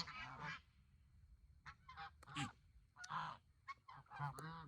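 Several geese honk in a series of nasal, overlapping calls, fairly quiet and slightly distant, with irregular bursts.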